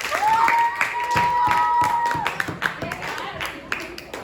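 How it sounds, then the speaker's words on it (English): A classroom of students gives a round of applause during a social studies lesson. The clapping is loud at first, with a sustained whistle-like tone, then thins into scattered claps as voices and movement carry on. "Give her a round of applause."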